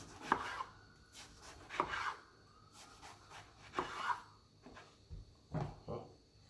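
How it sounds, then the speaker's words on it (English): A knife slices through eggplant on a cutting board for baba ghanoush, a series of separate close thuds and crisp cuts in an irregular rhythm, fairly quiet, no talking. "I'm gonna slice them like this. Make it cook easier."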